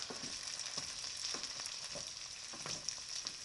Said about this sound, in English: So I'm just scraping the bottom so that nothing gets stuck.